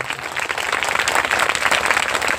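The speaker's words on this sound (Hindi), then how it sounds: "हम तालियों के साथ में जोरदार स्वागत करें" Loud, dense audience clapping in welcome at a Christmas church gathering, a crowd applauding together up close and continuously, with a faint murmur of voices underneath.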